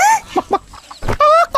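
A chicken clucks and squawks loudly at close range in a short burst of quick, uneven calls, ending in a longer drawn-out cackle.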